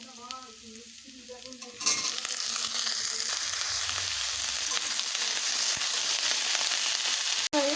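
Pumpkin greens drop into a pan of fried onions. A quiet crackle swells into a loud, dense, steady sizzle with faint stirring scrapes, and a brief sharp break comes near the end.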